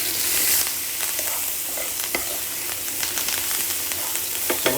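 Lamb shoulder sears in a hot pan with a bright, continuous sizzle, a louder hiss at first, then steady spitting crackles and occasional pops; no one speaks.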